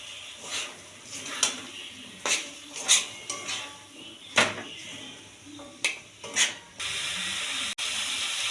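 Boiled kabuli chickpeas tumble into a pan of cooked spiced masala, giving close clattering knocks and scrapes in irregular bursts, then a steady sizzling hiss toward the end.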